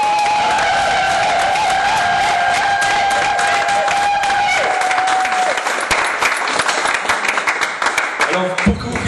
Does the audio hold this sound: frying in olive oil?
no